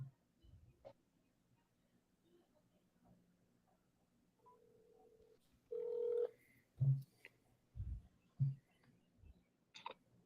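Telephone keypad tones dialed on a phone to place a call, a few short separate beeps with clicks and soft handling noise in a quiet room, no talk.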